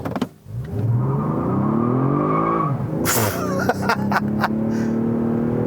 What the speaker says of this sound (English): let me floor it here with the traction control turned off